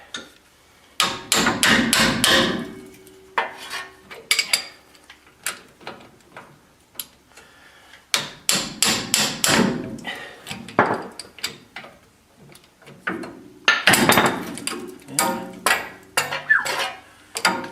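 A hammer strikes a suspension part on a Ford E-350 van during ball joint and tie rod work, landing loud, close metallic blows in rapid clusters separated by brief pauses, with no talking.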